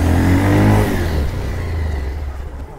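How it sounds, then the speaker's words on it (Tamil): A motorcycle engine revs loudly and close during a bike ride in Chennai, the pitch rising and then dropping back into a steady, fading rumble. "நம்ம சென்னையில் பைக் ரைட் போவோம்."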